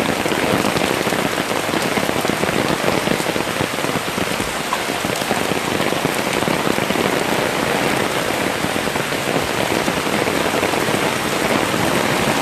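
Heavy rain pours down steadily near the old D'Mall area on Boracay, a dense, loud, unbroken hiss of drops hammering surfaces throughout with no voices.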